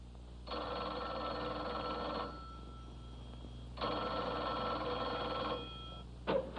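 A telephone bell rings in two long bursts separated by a pause of about a second and a half, followed by a brief click at the end.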